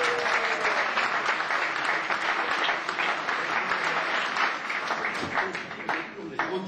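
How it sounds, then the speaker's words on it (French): An assembly audience applauds the rabbis with dense, sustained clapping from many hands that fills the room evenly throughout and dips slightly near the end. "mais allez-y, applaudissez les rabbinim."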